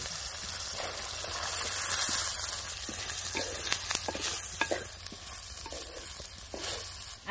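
Okra seeds drop into hot oil tempered with curry leaves and Kolhapuri red chilli powder, giving a steady soft sizzle with light stirring clicks and scrapes from the pan, heard close up.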